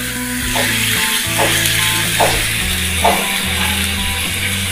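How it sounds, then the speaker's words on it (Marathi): Prawns sizzle steadily in a pan while they are sautéed, with a few soft stirring knocks. The sizzle sits over a low background hum and no one talks. "कोलंबी मी व्यवस्थित परतून घेतली।"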